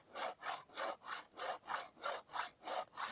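A hand saw works through wood in a steady back-and-forth rhythm, about nine even rasping strokes heard up close with no talking.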